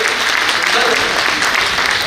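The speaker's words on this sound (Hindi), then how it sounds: "Ganpatji Chaudhary with a huge round of applause." An audience at a JITO event in Balotra claps in a dense, continuous round of applause, fairly loud and close, with a voice mixed in.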